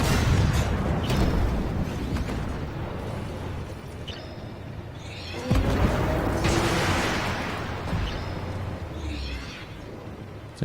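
A tank in the video game Armored Warfare takes a hit from enemy fire, heard as a loud booming impact midway through with a rumbling battle din of engine noise and distant blasts all around.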